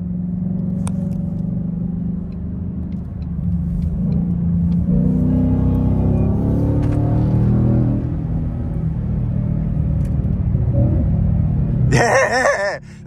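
A Ford Mustang GT engine rumbles steadily while driving, rising in pitch as it accelerates and dropping between gear shifts, loud and close inside the car, with a brief sharp sound near the end.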